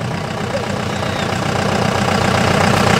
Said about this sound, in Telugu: ఈ కార్యక్రమంలో తొలి అంకంగా అలంకరించబడిన వాహనం బయలుదేరింది.